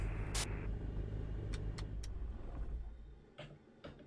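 A bush plane engine in a flight simulator game runs as a low, steady rumble beneath a few sharp ticks and clicks, then trails off lower near the end.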